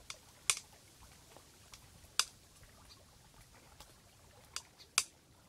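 Slow flam strokes with drumsticks on a piece of wood, sharp taps at slow, irregular intervals, some in quick doubled pairs, close and clear over a quiet background.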